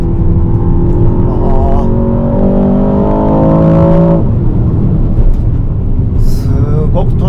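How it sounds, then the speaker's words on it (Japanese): A 2025 Aston Martin DBX707 super sport SUV accelerates hard on Hakone roads, its engine note climbing loudly in rising harmonics before easing off, close and powerful, with someone talking over it. "すごくトルクがあるんで、もうね3500回転も回ってればガンガン加速してってくれますね。"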